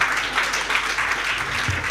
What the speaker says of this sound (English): Once again, a round of applause for the panel session.